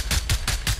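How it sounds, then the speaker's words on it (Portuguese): Four rapid laser gun shots in the video game Fortnite burst out loud and close in a quick, even rhythm. "Eita, era um tiro laser."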